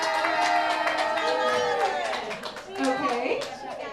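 An audience at a Halloween special comedy show in a dive bar claps over a noisy crowd, with children's voices and chatter loud on top.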